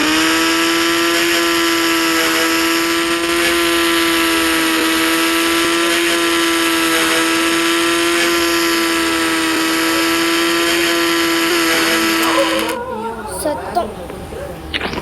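Racing boat engine in an open-world game, a steady loud motor drone with a sustained high whine that holds for about twelve seconds, then cuts off abruptly into quieter mixed noise.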